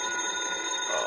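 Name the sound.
telephone ringing, radio drama sound effect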